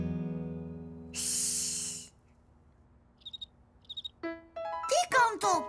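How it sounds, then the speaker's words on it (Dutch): Cricket chirping in a cartoon: two short, bright trilled chirps close together, preceded by a soft shushing hiss and followed by children's voices speaking. "Wat voor geluid maakt een krekel?"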